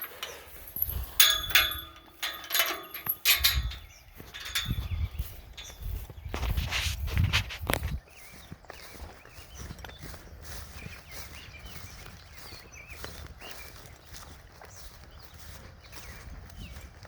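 Footsteps crunch across ground outdoors on a cattle farm, loud and irregular for the first half, then softer and sparser, with faint birdsong in the background.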